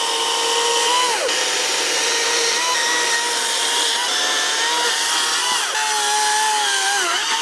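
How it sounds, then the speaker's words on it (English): A chainsaw roars loudly and continuously at close range at an off-grid campsite on Mt. Hood, Oregon, its engine pitch dipping and rising as it bites into wood. "First time ever using a chainsaw."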